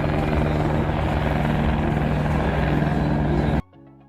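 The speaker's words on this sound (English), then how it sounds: "this was our first helicopter ride" Loud, steady helicopter rotor and engine roar heard from inside during flight, close and continuous, with a rhythmic thumping, cutting off abruptly near the end to a quieter hum.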